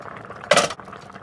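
A single brief bubbling burst rises from a pot of brown beans boiling in water, a short loud gurgle over quieter simmering.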